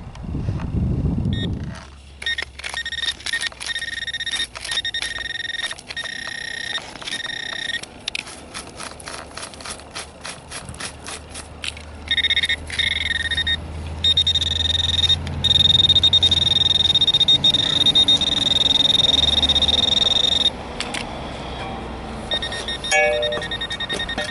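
A metal detector sweeps for a coin hoard at the bottom of a lake, giving loud, irregular electronic beeps and sustained high tones, some in rapid bursts, over low rumbling handling noise.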